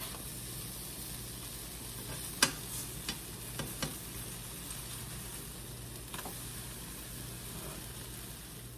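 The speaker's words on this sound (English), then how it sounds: "allow it to cook on the first side for about 3 minutes until golden brown" French toast frying in a pan makes a soft, steady hiss with faint crackle, broken by a few sharp clicks and light taps, quiet and close with no one talking.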